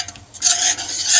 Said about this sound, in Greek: πατάω καλά τα λεμόνια να βγάλουν το ζουμάκι τους